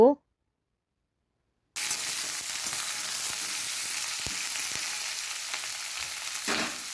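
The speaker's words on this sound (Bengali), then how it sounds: "লঙ্কাগুলো দিয়ে ভালো করে ভাজা ভাজা করে নেব" Green chillies and vegetables fry in oil in a home kitchen, a steady close sizzle with occasional stirring clicks that starts abruptly after a short silence and continues without talk.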